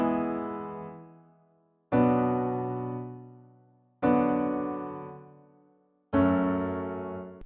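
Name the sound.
chord progression played, E mixolydian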